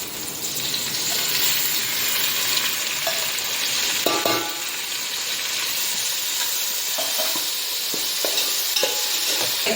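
Ginger garlic paste frying with sautéed onions for a vegetable biryani, a steady close hiss and sizzle with occasional spoon scrapes and taps against the pan, with no one talking.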